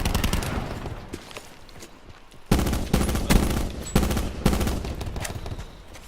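Rapid automatic fire from a GK5 rifle in Call of Duty Black Ops 4 Blackout, repeated loud close bursts of shots with brief gaps between volleys.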